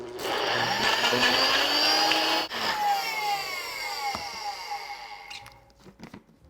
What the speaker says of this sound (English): Now we're just gonna blend this up until it's creamy.